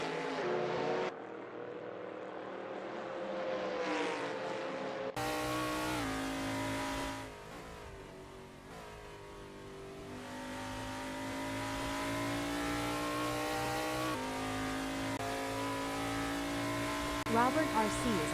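Sprint car engine droning steadily on track in a sim racing game, a continuous high revving whine that shifts pitch as the car accelerates, with a commentator talking over it.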